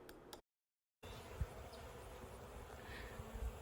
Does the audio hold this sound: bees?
yes